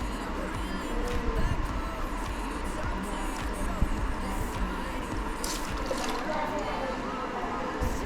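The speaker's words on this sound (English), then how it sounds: "Loosen this bolt to drain out the distilled water from the system." Distilled water coolant drains from the loosened bolt of a Ninja 650 motorcycle, a soft continuous trickle and splash running steadily beneath someone talking.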